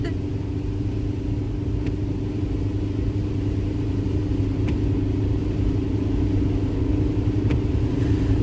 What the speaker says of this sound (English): I'm having to drive home.